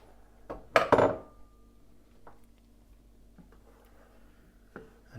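A spoon scrapes and clinks against a pot while stirring sugar into blackberry vinegar on the stove: a cluster of loud metallic knocks early on, then sparse, quieter taps and scrapes.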